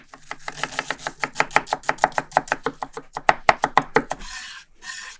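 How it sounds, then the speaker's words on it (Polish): Rapid, even knife chops finely dicing a peeled onion on a cutting board, a long run of crisp strikes close up, then a short pause and some scraping. "Drobno posiekaj obraną cebulę."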